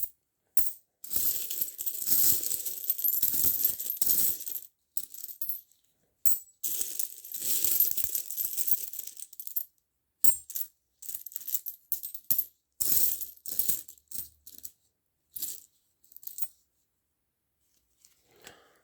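Coins handled and dropped in short metallic bursts, bright clinking and jingling clusters separated by silent gaps, close and fairly quiet.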